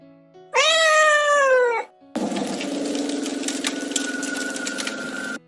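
A cat gives one loud, drawn-out meow lasting over a second. A steady mechanical hum with rhythmic ticking follows right after it, and no one speaks.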